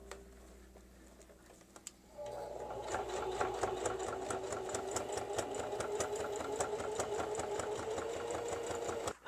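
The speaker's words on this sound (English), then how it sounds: "we'll sew that onto our lining fabric in just a second" A sewing machine stitches lining fabric for a small duffel bag made from a rice bag, starting after a quiet moment and running as a steady, close, rapid mechanical patter to the end.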